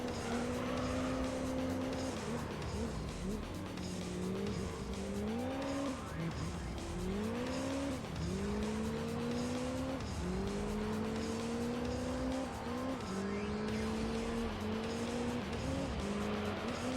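Gran Turismo 3 game audio of an LMP race car engine revving and shifting through gears repeatedly, rising and dropping in pitch, with tire squeal and track noise, loud and continuous, while someone talks over it.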